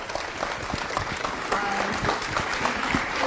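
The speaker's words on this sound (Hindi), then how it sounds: "बहुत सुंदर तालियां" An audience at a spiritual talk gives sustained applause for a young boy, a dense, even patter of many hands clapping, moderately loud, with faint voices mixed in.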